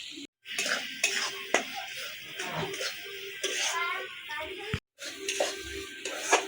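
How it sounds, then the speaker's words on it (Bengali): Ground spice masala sizzles steadily in a pan while being fried for an egg curry, with occasional spoon scrapes and clinks against the metal. The frying is soft and close, with no talking. "ভালো করে মশলাটা ভাজাক, লাল হয়ে যাক সুন্দর করে।"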